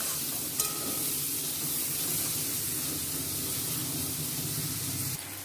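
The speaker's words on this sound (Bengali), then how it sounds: "পেঁয়াজ কুচিগুলো এবার তেলের সঙ্গে ভালো করে নেড়ে নেব।" Chopped onions frying in oil in a pan, a steady close hiss of sizzling that runs unbroken throughout, with faint stirring scrapes beneath and no talking.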